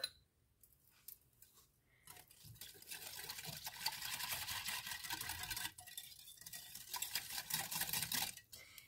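Whisk scraping and sloshing through banana cake batter as milk is mixed in, a steady busy rhythm of wet stirring in a bowl that runs continuously after a brief quiet start.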